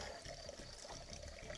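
A village stone fountain in the Rhodope mountains, its water stagnant and trickling weakly, gives a steady faint dribbling wash with no voices.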